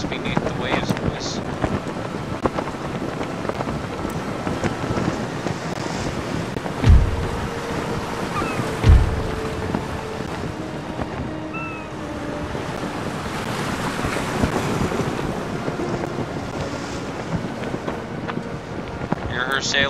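Ocean waves surge and wash with wind in Empire Total War as a ship sinks, a dense roaring wash throughout with a couple of low thuds and a voice speaking over it.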